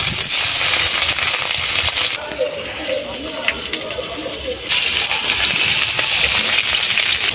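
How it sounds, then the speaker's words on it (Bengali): Fish sizzle in hot mustard oil in a village kitchen wok, a loud, steady hiss that briefly softens and then surges again, while a person talks over it. "তেল গরম হয়ে গেছে, মাছগুলো দিয়ে দিচ্ছি।"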